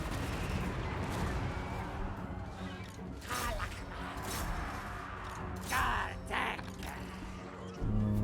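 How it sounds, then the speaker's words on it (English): Mass bombing in a strategy video game, a rapid cluster of explosive bursts and crashing impacts layered over busy battle noise, loudest in the middle and near the end. "Let's just do a mass bombing."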